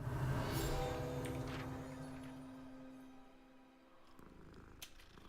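A cat purrs in the video game Hogwarts Legacy, a soft rumbling drone mixed with game sounds and faint tones, fading slightly before picking up again.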